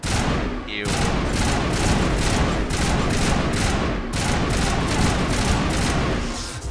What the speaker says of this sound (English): this assault rifle is a 3-round burst